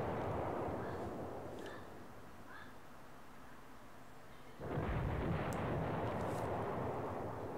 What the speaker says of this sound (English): And we are just smothering these guys in artillery.